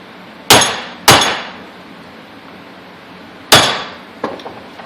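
Hammer blows drive out a u-joint on a Polaris Sportsman 500 ATV: three loud, sharp metallic strikes, two close together and one after a pause, followed by a fainter clink.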